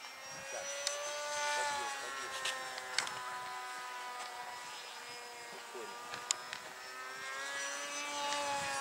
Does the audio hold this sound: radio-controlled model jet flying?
yes